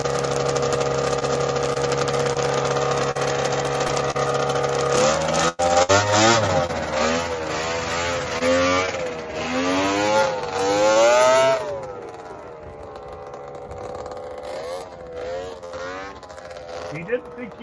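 A small vintage snowmobile engine runs steadily with a rough, buzzing hum, its pitch rising and falling as it revs, with voices talking over it partway through.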